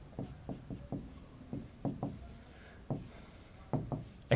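Notes being handwritten with a pen on paper during a geography lesson: a series of short, close scratchy strokes in irregular bursts, fairly quiet, with no talking.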